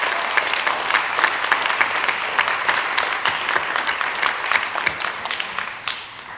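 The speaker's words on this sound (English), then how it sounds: "if we can have a round of applause for those who've been highly commended" An audience at a student leadership awards evening applauds those highly commended, a full, sustained wash of many clapping hands at close range that holds steady throughout and thins slightly at the very end.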